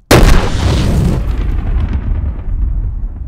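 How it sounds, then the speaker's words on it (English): A bullet strikes a propane tank and sets off a fireball explosion: a single sudden, very loud outdoor boom that rolls into a long, fading rumble. "those movie scenes that depict huge propane tank fireball explosions when they get shot with a bullet"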